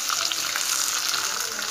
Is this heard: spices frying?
yes